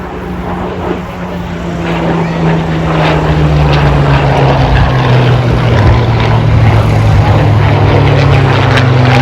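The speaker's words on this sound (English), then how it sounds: "Spitfire and Mustang." Spitfire and Mustang propeller warplanes fly past at an airshow in Gatineau-Ottawa, a loud, steady engine drone with a low throbbing hum that holds throughout.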